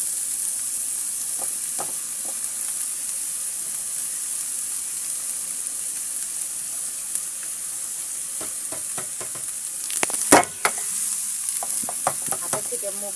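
Chopped potatoes and bottle gourd peel fry in a pan with golden fried garlic, giving a steady bright hiss and sizzle with occasional scraping stirs and clinks.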